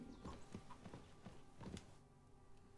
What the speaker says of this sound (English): I just heard a fucking horse.